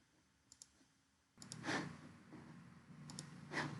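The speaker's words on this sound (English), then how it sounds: "So now we can click generate code" Computer mouse clicks triggering code generation for an STM32 project on a Windows 10 PC: two faint quick clicks, then two more, each pair followed by louder broadband bursts of activity, fairly close and with no talk.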